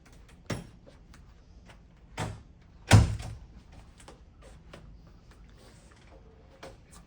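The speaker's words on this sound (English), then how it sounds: "we want to close the door just in case" A door thuds shut in a conference room with a few sharp knocks and clunks, the loudest impact near the middle, separated by quiet room tone.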